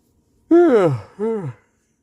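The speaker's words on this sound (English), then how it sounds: "Yawning." A voiced yawn rises then falls, followed by a shorter second yawning groan, close and otherwise quiet.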